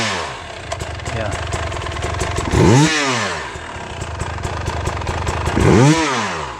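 Enduro dirt bike engine on a hard enduro setup, idling with a rapid popping rhythm and then twice blipped sharply in quick succession, the revs surging and falling close by, with a voice talking over the engine.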